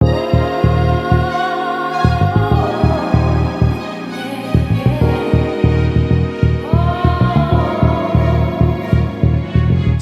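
A full hip-hop beat with punchy kick and drum hits in a steady groove under sustained synth chords and melody, loud and continuous with a short drop-out near the start.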